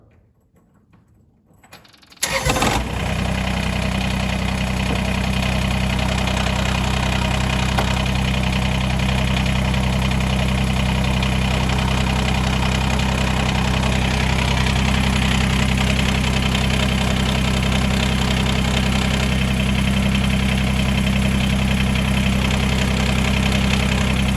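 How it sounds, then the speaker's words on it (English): A Kubota BX2380 compact tractor engine, mid PTO selected, turns over and settles into a steady, loud idle with a mechanical rattle that continues unchanged to the end. "We'll start the tractor up."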